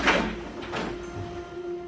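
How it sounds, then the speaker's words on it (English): A door is moved in a ghost-hunt recording, with a short scraping thud at the start followed by a faint creak and a low steady hum, no speech. "Second sound sounds like someone trying to move the door."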